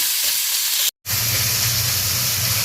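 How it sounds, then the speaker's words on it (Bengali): Minced chicken stirred with a spatula through spices frying in a pan, a loud close sizzle with scraping stir strokes, broken by a sudden brief silence before the hiss resumes with a low rumbling hum beneath. "আপনাদের যে খুন্তিটা দিয়ে নেড়ে দেবেন, এটা পুরোটা আপনি মশলার মধ্যে খুব ভালোভাবে এভাবে করে নাড়তে নাড়তে ঝুরঝুরা করে নেবেন।"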